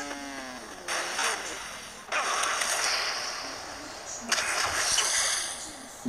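A motorcycle plunging into water in the video game GTA, with several loud, splashy bursts spaced a second or two apart over a low game background, while a player talks throughout.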